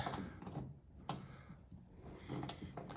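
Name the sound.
short ratchet turning bolt on John Deere 2510 tractor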